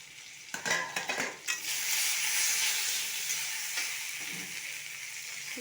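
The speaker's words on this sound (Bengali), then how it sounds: "আলুটাকে আমি ঢাকা দিয়ে লো ফ্লেমে আস্তে আস্তে করে লাল লাল করে ভেজে নেব।" Potatoes frying slowly in oil on a low flame for an aloo-baingan dish. A few close clinks and stirs of a spatula against the pan lead into an even, moderate sizzle that tapers off.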